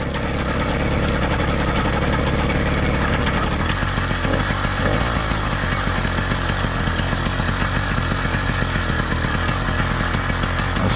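A small Cranbrook engine runs steadily in severe cold, its rapid, rough, chattering putter close and constant as it warms up.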